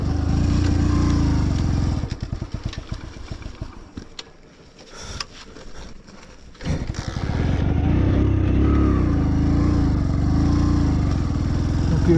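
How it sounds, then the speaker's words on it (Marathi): A Maharashtra-registered Maruti Swift at high altitude on Khardung La pass cranks and runs roughly, sputtering and dying, then rumbles again, loud and close with a steady droning idle. "मित्रांनो तर गाडी 2 वेळा चालू केली बंद पडली."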